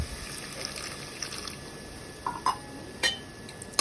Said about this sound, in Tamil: நம்ம போட்டிருக்க இஞ்சி பூண்டு ஒட்டாமல் இருக்கிறதுக்கு கொஞ்சமாக தண்ணி ஊற்றிக்கோங்க.